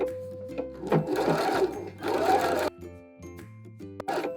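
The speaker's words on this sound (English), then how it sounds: "set up your machine for a straight stitch, and let's sew this chalk line" A sewing machine runs a straight stitch along a chalk line while tailoring a blazer sleeve, whirring in several close, loud bursts separated by brief pauses and a few mechanical clicks.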